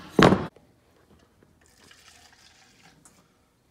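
Liquid, likely resin for carbon fiber molds, is poured back into a container in a short loud splashing burst at the start, then only faint trickles and handling sounds remain.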